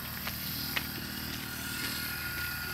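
A motorized sprayer runs with a steady droning engine hum while spraying a corn field outdoors, the sound continuous and fairly close, with a few faint clicks over it.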